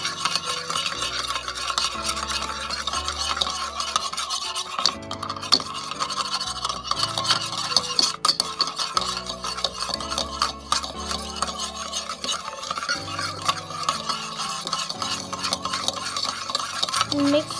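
Dalgona coffee mixture being whisked by hand in a bowl, a steady, fast scraping and clinking rhythm that runs continuously and close up, with no talking over it.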